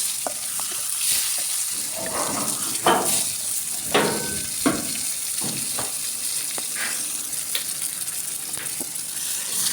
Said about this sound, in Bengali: আমি দুপাশে উল্টিয়ে পাল্টিয়ে খুব ভালো করে বেজে নিচ্ছি